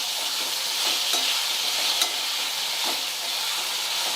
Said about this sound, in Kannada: ಸ್ವಲ್ಪ ಮೆತ್ತಗೆ ಆಗೋವರೆಗಿನ ಮೀಡಿಯಮ್ ಫ್ಲೇಮಲ್ಲಿ ಇಟ್ಕೊಂಡು ಫ್ರೈ ಮಾಡ್ಕೋಬೇಕಾಗ್ತದೆ.